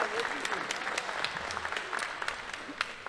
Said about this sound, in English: Let's give one more round of applause for Chris Chancellor.